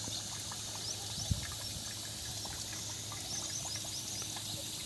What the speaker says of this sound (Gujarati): બાજુમાં પંપની મોટર ગોઠવી છે અને આ રીતે ફુવારા થાય છે